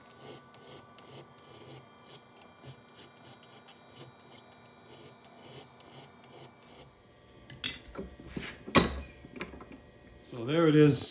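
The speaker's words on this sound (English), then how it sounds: "I'll touch it up a little bit with a file" A hand file and sandpaper rasp over a small metal governor bracket in irregular short strokes, fairly quiet and close, with a few louder knocks toward the end.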